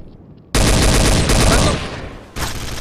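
Gunfire in the video game Trouble in Terrorist Town comes as loud sustained bursts of rapid automatic shots, one long volley followed by a pause and then another burst, with no voices over it.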